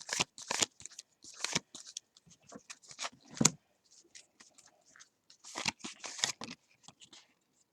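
Tarot cards are shuffled in quick crisp riffles and bursts, close and fairly quiet, with brief pauses between rounds.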